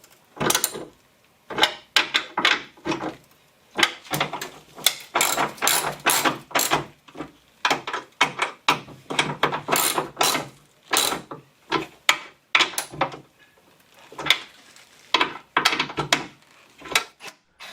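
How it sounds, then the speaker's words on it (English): A ratchet tightens 12mm nuts on the hood hinge of a 2004 Infiniti G35X, giving close, rapid clicking bursts in repeated strokes with short pauses between them and no talking. "I tightened the 12mm nuts."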